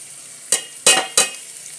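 Pork frying in a pan with extra onions added, giving three sharp bursts of sizzle and stirring over a steady low hiss, close and fairly loud, no talking.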